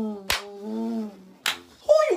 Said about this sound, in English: Who are you clapping for?